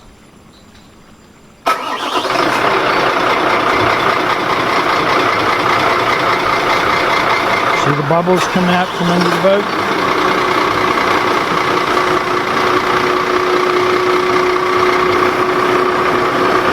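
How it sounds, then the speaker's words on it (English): A boat engine idles continuously after starting up, warming up in neutral, a constant mechanical drone with a person speaking briefly over it. "So the engine's going to warm up, check systems"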